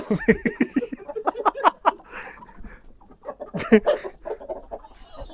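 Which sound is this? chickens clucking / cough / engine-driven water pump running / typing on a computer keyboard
chickens clucking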